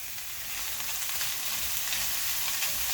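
Cooked saltfish searing with cabbage and vegetables in a hot pan, a dense, steady sizzle that swells slightly after the start, close and loud, with no talk.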